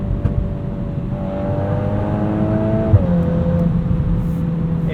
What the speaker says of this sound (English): And you can bounce off the rev limiter